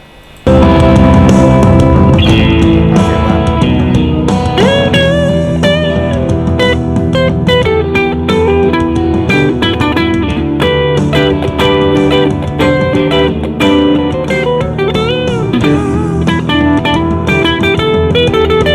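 A melodic electric guitar solo rings out with bent, sustained notes over backing music, the phrases trailing into echoing repeats and lush reverb.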